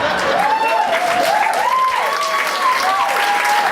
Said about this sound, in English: Look at you pandering for an applause break.